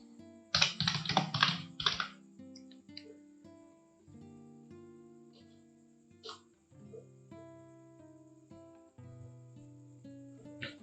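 A quick burst of computer keyboard typing with rapid clicks near the start, followed by a few scattered keystrokes beneath steady background music.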